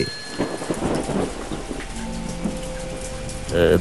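Steady rain pours down with a low rumble of thunder beneath it, a continuous wash of sound throughout.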